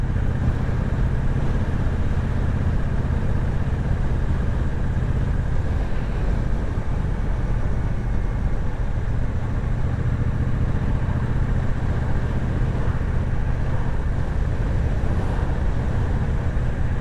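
A 1200 twin-cylinder motorcycle engine idles and runs with a steady, loud low rumble that holds constant throughout, with no talk over it.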